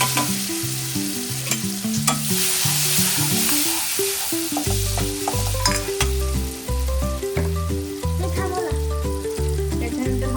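Tomatoes go into a pan with Kashmiri chilli powder and homemade masala, and a steady sizzle of frying runs throughout, with stirring under a continuous musical background.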